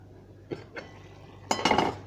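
Metal cooking pot being covered: two light clinks followed by a louder clattering rattle as the lid settles on, close and without speech.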